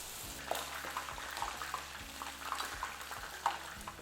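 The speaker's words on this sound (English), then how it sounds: "Add pitas and cook on low flame." Squares of pita bread frying in hot oil over a low flame, a soft continuous sizzle with light bubbling and occasional small pops, close and fairly quiet.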